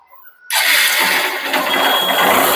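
A Honda Shine motorcycle engine, just after a carburetor cleaning, fires up abruptly after a brief quiet moment and settles into a steady, loud, close-up running roar with no talking.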